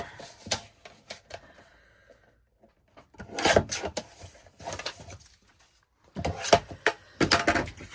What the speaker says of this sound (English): And then I'll trim it in my trimmer